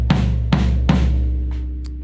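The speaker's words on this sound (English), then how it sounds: "next is the floor tom. So it's just like these ones, except this one just sits on the floor" A floor tom, the low drum of a standard drum kit that stands on the floor, struck three times in a steady rhythm, each hit booming and ringing out under the next, then two faint ticks at the end.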